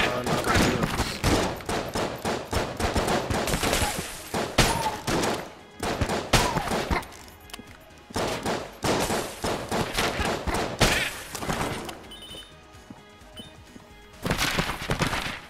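Rapid bursts of gunfire shooting out lanterns in Enter the Gungeon, loud clustered volleys separated by short pauses, with impacts mixed in and no talk.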